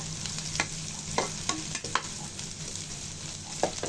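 Chopped onions fry in a pan for koi fish bhuna, a steady close sizzle with a spatula scraping and tapping every half second or so.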